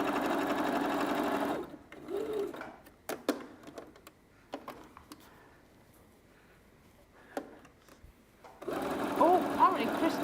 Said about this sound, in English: I'm just stitching all the way round, apart from the very bottom,